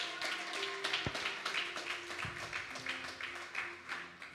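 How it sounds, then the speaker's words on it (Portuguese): A church congregation applauding, continuous crowd clapping at moderate level with a faint tonal hum and occasional background sounds. "aplauda mais forte a Deus, em nome de Jesus"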